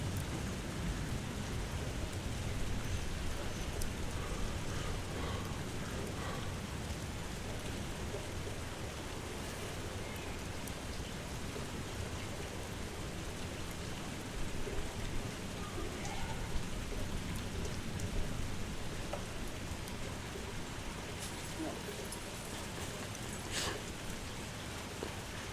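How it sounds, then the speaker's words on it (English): Steady rain falls and patters on surfaces for the whole stretch, a dense, even hiss with scattered louder drops and faint low rumbles beneath. "Yeah, it's raining."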